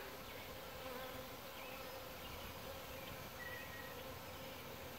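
Honey bees fanning at a hive entrance, a dense, steady buzzing hum of many insects, constant and fairly faint, with no voices.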